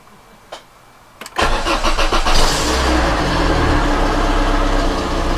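A Volvo 480 2.0 litre engine cranks with a short starter whir, then catches and roars loudly for a few seconds, nearly firing into life before settling into a rough, steady run close by.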